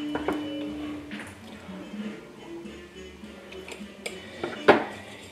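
Utensil clinks and scrapes against a bowl while a honey and sesame oil marinade is mixed, irregular metallic taps with a sharper clatter near the end, under faint kitchen background.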